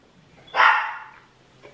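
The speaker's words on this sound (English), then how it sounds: "You got the two little dogs going against the big dog." A single sharp bark from a dog rings out close by in a home, then fades into quiet room tone.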